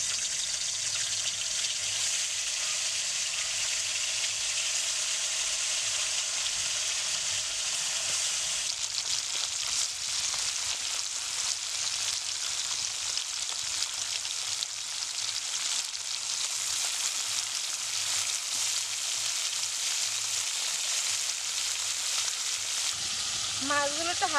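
Amudi fish shallow-frying in hot oil in a wok, a continuous close crackling sizzle with bursts of spitting, a slight shift in texture midway and a faint clink at the end.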